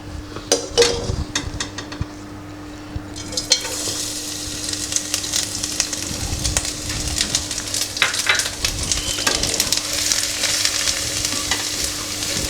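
Coconut pieces sizzle steadily in hot ghee over a low flame, with scattered clicks and scrapes of a utensil stirring in the pan throughout.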